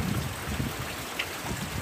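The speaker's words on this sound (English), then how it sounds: "the wind and the rain are kind of wild" Wind and rain from Hurricane Michael in North Carolina roar outdoors, a steady hiss of rain with low gusting rumbles of wind buffeting nearby, and no voices.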